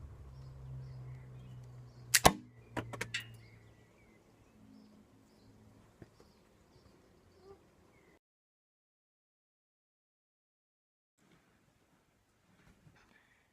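A compact LEGO Technic survival pistol fires during an accuracy test, giving one sharp snap followed by a couple of quick plastic clicks, close and brief, then faint small knocks fading into near silence.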